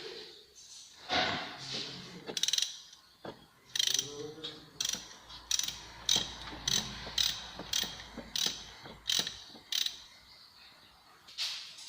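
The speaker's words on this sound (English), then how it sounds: "Now we are going to uninstall the tensioner for the V-belt. We are also turning anti-clockwise." A ratchet clicks repeatedly while loosening the V-belt tensioner on an Opel Vectra 1.9 CDTI engine, turning anti-clockwise with a steady series of sharp, close clicks after some initial metallic fumbling and creaking.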